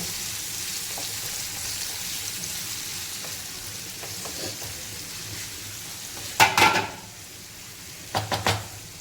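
Onions sauté in oil in a pan with a steady, moderate sizzle. Near the end, a few sharp metallic scrapes and clinks from stirring cut through it.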